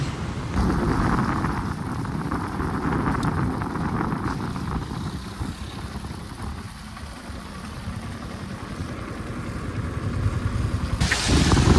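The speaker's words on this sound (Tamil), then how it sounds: "சரியான மழைங்க, அதனால் வண்டியை உள்ளே நிறுத்தியாச்சு." Heavy monsoon rain pours steadily during a Munnar motorbike trip with an R15, a dense continuous roar with no talk, swelling slightly louder near the end.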